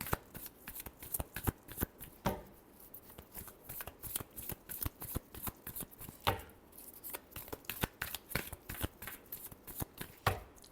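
A deck of tarot cards is shuffled in quick, close riffling bursts, with crisp repeated flutters and snaps continuing steadily, no voices heard.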